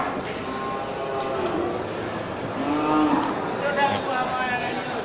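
Aceh cattle raised for fattening low and moo at a busy livestock market, with several drawn-out calls rising over a steady murmur of crowd and yard noise.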